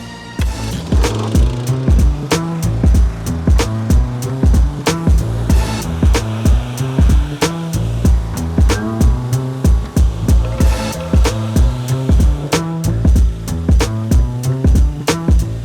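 Gas-powered power washer running beside a wooden deck being prepped for refinishing, its engine chugging in a loud, fast, even rhythm of knocking pulses throughout, close by with no talk.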